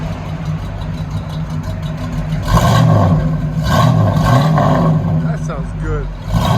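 A 1973 Ford Mustang Mach 1 V8 with true dual Flowmaster Super 10 exhaust rumbles at a loud deep idle, swelling into brief blips of throttle midway, with voices talking nearby.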